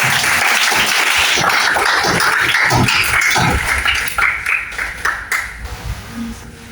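Classroom applause rings out loud and sustained from a group of listeners, then thins into scattered claps and fades over the last couple of seconds.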